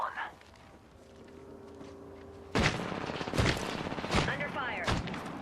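Gunfire in a video game: after a quieter stretch, several loud, sharp bursts of shots break out in quick succession, close and punchy, with a voice speaking over parts of it.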